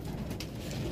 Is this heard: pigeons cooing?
yes